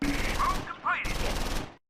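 Gunfire in the WWII strategy game Close Combat 4 as a soldier fires at a Sonderkraftfahrzeug 251/1 halftrack and misses, a short burst of sharp reports over dense battlefield noise, two close bursts separated by a brief gap.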